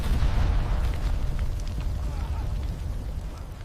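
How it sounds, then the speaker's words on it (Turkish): Gunpowder store aboard the galleon San Jose explodes in a deep, sustained rumbling boom with crackling bursts, loud from the start and slowly fading over a few seconds. "Barut deposu infilak etmişti."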